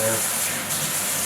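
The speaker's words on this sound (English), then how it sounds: "wash this knife real quick so I can use it in my vegetables" A kitchen knife rinsed under a running tap, a brief steady gush of water splashing loudly and close by.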